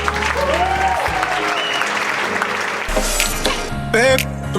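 Wedding reception guests break into loud, sustained applause and cheering, with music playing in the background throughout.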